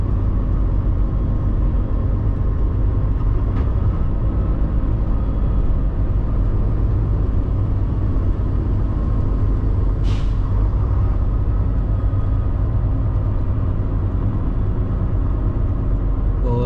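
Steady low rumble of a slow highway traffic queue near Montreal, Quebec, in early winter snow, with broadband engine drone throughout, a faint hiss near the start and a brief air-brake-like burst partway through.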